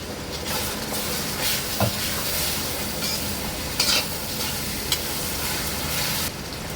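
Onion frying with ginger-garlic paste in a pan for chicken biryani, giving a steady close sizzle and hiss with occasional stirring scrapes and brief clicks.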